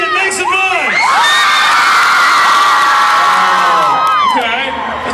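A crowd at a dance contest cheers, whoops and shouts, with children's voices rising high and loud over a continuous roar that holds steady for several seconds.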